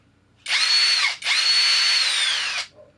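A MTDTD-156 impact driver runs free in two close, loud whirring bursts, the first short and the second longer with the motor pitch easing slightly before it stops.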